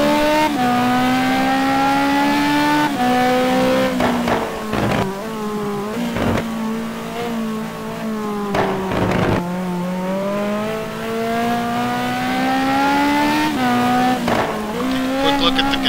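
Ferrari race car engine heard on board at Spa in a GT2 racing game, a loud sustained roar with rising and falling revs and brief shift breaks, continuous throughout.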